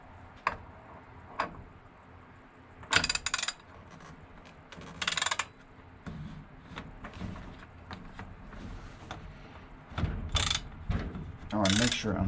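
A ratchet tightens the spark plug on an Echo PB-250LN leaf blower, with bursts of rapid clicking pawl sounds separated by pauses, close and fairly clear.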